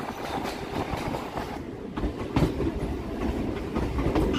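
A Sealdah-bound local train moves along the rails toward the Kakurgachi chord line, a steady rumbling roll with rhythmic clickety-clack thumps from the wheel joints, heard from aboard at moderate volume without speech.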